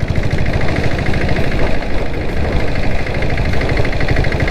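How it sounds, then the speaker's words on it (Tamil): A 7.5 HP diesel Bullet motorcycle engine fitted with a turbo, running in a steady throbbing idle-like rhythm with a constant hiss from the air intake, close and loud, no voices. "டர்போ வந்துட்டு காற்றை சக் பண்ணுறது வந்து நல்லாவே தெரியுது"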